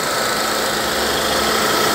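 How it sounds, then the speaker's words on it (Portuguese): The electric radiator cooling fan of a GM Astra 2.0 8V runs at full speed beside the engine, a loud, steady whirring roar with no pauses and no talk. "O eletroventilador entra em funcionamento."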